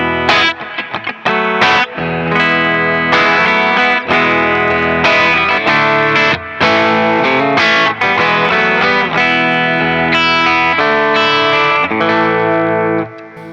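Fender Richie Kotzen Telecaster electric guitar played through effects on the neck pickup, bluesy noodling with continuous chords and single-note runs, loud and sustained with distortion, chorus and reverb, no voice.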